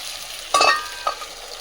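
Soaked cashew nuts are stirred in a cooking pan, giving a short scraping rustle followed by a softer second scrape, close and fairly quiet against a faint background hiss.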